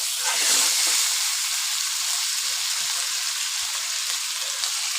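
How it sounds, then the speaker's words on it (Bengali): Stinging catfish sautéing in a pan with kachu greens, giving off a steady, bright sizzle and hiss of frying oil that runs evenly throughout, close and without talk. "মাছ দিয়ে আমরা শিং মাছ দিয়ে ভালো করে কষিয়ে নিচ্ছি জিনিসটাকে।"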